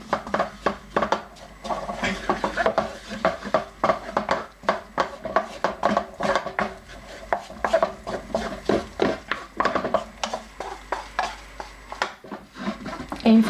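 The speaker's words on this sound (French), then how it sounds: "on va tout de suite mettre la farine tout en remuant" Flour being whisked into melted butter in a pan for a béchamel sauce, heard as steady close scraping and clinking of a utensil against the pan, with rapid repeated strokes throughout.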